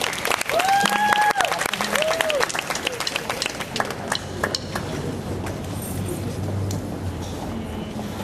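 Lively applause from an audience at a poetry tribute welcoming the city manager, with dense clapping, some whoops and whistles early on, and a gradual fade toward quieter crowd murmur.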